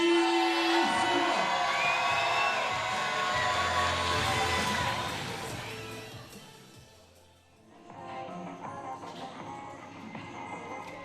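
An evening podium crowd cheers and whoops loudly for the winner, a boxing athlete, with shouts and voices mixed in, dipping briefly before the noise picks up again.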